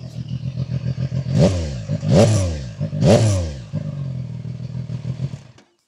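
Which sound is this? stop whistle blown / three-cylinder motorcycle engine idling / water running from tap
three-cylinder motorcycle engine idling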